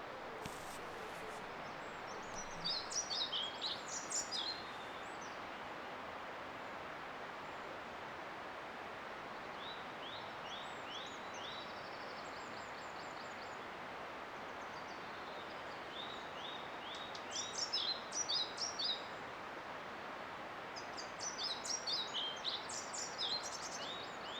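Faint bird song in short chirping phrases over a soft, steady outdoor hiss, with quiet gaps between bursts.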